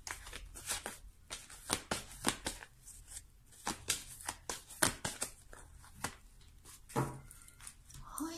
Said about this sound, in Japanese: 再度軽くシャッフルするので少しお待ちください